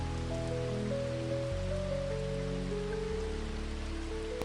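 Gentle rain falls as a soft, even hiss that never lets up, with low tonal hums droning beneath it and no voices.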